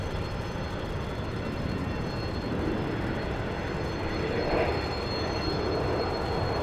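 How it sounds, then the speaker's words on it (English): Bombardier Challenger 350 business jet arriving from Corpus Christi, Texas at Dallas Love Field, a steady jet engine roar at moderate distance that swells slightly near the end, with no voices. "coming in from Corpus Christi, Texas, Bombardier Challenger 350"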